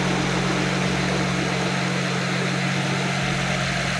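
A BMW N54 engine idles right after its first start following fresh oil and new timing chains, giving a steady, even hum with a constant low drone, close and uninterrupted with no talk.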